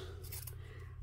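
Scissors make one short cutting stroke through ribbon in a junk journal craft session, close and soft against a steady low background hum.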